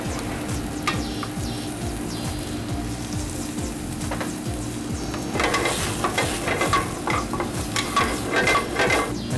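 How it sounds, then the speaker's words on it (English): Garlic, green beans and eggplant sauteing in a pan, a steady close sizzle with repeated stirring scrapes that grow busier toward the end. "We're going to saute some garlic."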